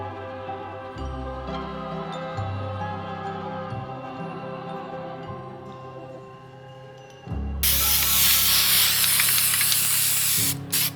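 Spray paint hisses from an aerosol can while Halloween outdoor decoration handles are coated, starting after a stretch of music and continuing loud and steady to near the end.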